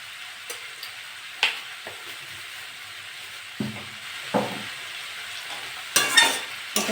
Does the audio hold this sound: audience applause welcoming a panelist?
no